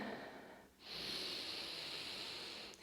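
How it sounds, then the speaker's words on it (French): A deep inhale through the nose during a barre workout, a slow, soft, breathy draw lasting about two seconds that follows a brief quiet pause, close and faint. "invitez une profonde inspire par le nez"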